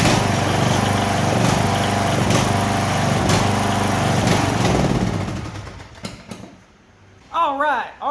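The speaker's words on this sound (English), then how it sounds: "our riding mower starts the way that it's supposed to with the key" Riding lawn mower engine started with the key, running loud and steady up close before shutting off, followed by faint rustling.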